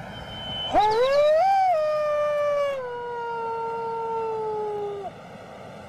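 A man imitates a wolf, howling to a wild wolf in a long wavering tone that rises, holds and slowly falls, loud and alone.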